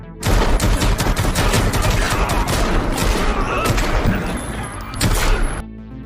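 Dense, continuous gunfire from a movie shootout rattles for several seconds, rapid bursts and single shots overlapping in a loud, chaotic exchange before cutting off abruptly.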